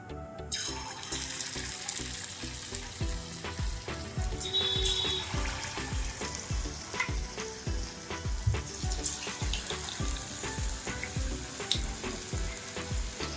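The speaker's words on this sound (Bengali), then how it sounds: "তেলটা আমার খুব ভালোভাবে গরম হয়ে গেছে। এরপর আমি এক এক করে চিকেনগুলো দিয়ে দেব।" Chicken pieces sizzling in hot refined oil for chili chicken, a steady loud crackle and hiss with scattered sharp pops and occasional clinks.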